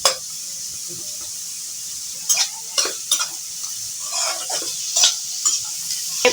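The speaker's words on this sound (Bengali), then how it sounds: "পেঁয়াজটাকে একটু ব্রাউন কালার করে নিচ্ছি" Onions frying and being stirred in a pan until brown, a continuous sizzle broken by repeated scraping stir strokes in short bursts.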